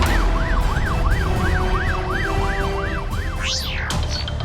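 Police motorcycle siren wailing in a fast, rising and falling sweep that repeats steadily and loudly over heavy traffic noise, with a second siren tone briefly crossing near the end.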